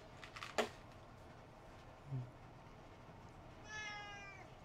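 A cat in a Sim Settlements 2 game session lets out a faint meow near the end, after a brief click and a soft thud, over steady background hiss.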